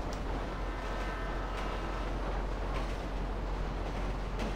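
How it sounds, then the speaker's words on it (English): A train rolls past in a GTA video game, a steady low rumble with faint rail clatter holding evenly throughout, quiet and continuous with no voices over it. "There's a train coming."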